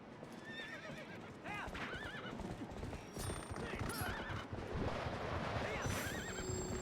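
A horse in Twilight Princess HD neighs several times amid clip-clopping hooves and busy game sounds, with a voice talking underneath.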